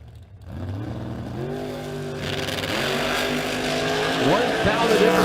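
At a drag strip, a blower Corvette and a Mustang launch with rising engine roar that climbs in pitch through gear changes, loud and sustained, with a brief tire squeal near the end and voices under the engines.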